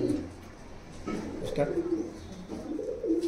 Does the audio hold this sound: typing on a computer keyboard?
no